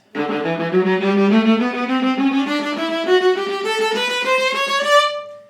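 A viola plays a steady run of separate, evenly bowed détaché notes climbing gradually in pitch, each stroke smooth and connected to the string, played alone, from Moto Perpetuo in Suzuki Book 5.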